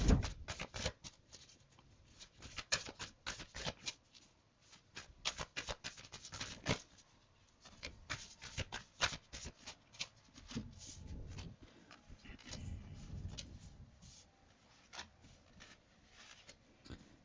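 A deck of tarot cards being shuffled up close: quick papery riffles and soft slaps that come in dense, uneven bursts. The steady shuffling runs for a long stretch, with no talking.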